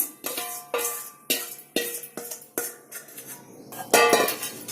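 Pieces of fried chicken go into a pot of gravy for Kashmiri chicken biryani, setting off a run of sharp metallic clanks and clinks from the pot and utensil, about seven distinct hits spaced unevenly, close and fairly clear.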